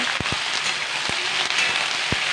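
Mixed vegetables frying in a kadai on a high gas flame for a Bengali panchmishali sabji: a steady, bright sizzle with scattered sharp pops and crackles throughout.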